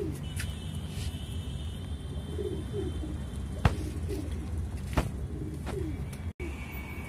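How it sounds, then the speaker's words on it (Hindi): Soft, low coos of desi high-flyer pigeons repeat through steady outdoor background noise, with a few sharp knocks and clicks scattered throughout. "देसी हाई फ्लायर है, बहुत बढ़िया कबूतर है।"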